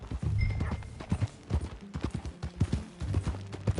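Horse hooves clip-clop in Red Dead Redemption 2, irregular hoofbeats close by alongside snorting and a brief whinny, with no talk.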